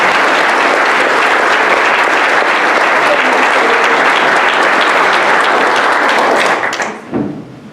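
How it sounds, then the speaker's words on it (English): A courtroom audience at a judge's career celebration applauds the judge's family, a steady dense wash of clapping for several seconds that stops abruptly near the end, followed by a brief thud. "let's give all the members of the Strom family a round of applause for coming from around the world."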